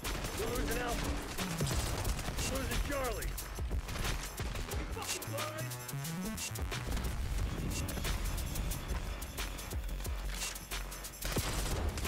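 AS VAL suppressed rifle firing in Black Ops 6, dense rapid gunfire mixed with other shots, game sound effects and bursts throughout, loud and continuous with some speech underneath.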